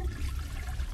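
A toilet flush in a lasagna monster horror video game rushes as a steady, loud wash of water for a brief moment, with no talking over it.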